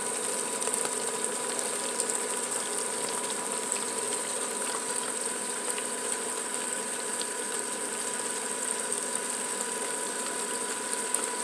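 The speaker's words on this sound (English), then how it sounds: "Washing this other stuff down." Water runs steadily through a gold cleanup setup, washing lighter material away while black sands and gold stay at the top, a continuous mid-level wash with a faint mechanical hum and no talking.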